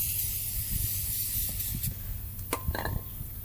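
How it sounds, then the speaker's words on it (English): A cleaner is sprayed into a rusty flywheel on a 650cc shifter kart engine, giving a close, steady hiss with a few sharper bursts near the end. "Spray that in there and then wipe it out."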